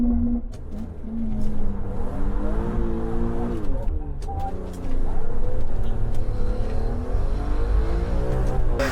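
A BMW E36 M3 drives past, its engine note rising and falling in pitch over about nine seconds, loud and continuous with some background talk mixed in.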